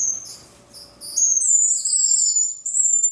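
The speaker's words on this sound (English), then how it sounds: "my new birds have arrived." Several newly arrived aviary birds chirp and tweet in bright, high, overlapping calls that grow louder and more continuous after a quieter start, close by with no talk.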